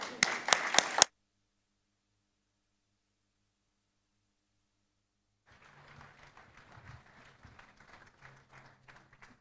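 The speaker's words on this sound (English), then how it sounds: "let's just be upstanding and give him a very, very warm clap" A graduation ceremony audience gives a brief burst of close, sharp clapping that stops abruptly, then after a long silence a softer, more distant round of applause with scattered claps continues.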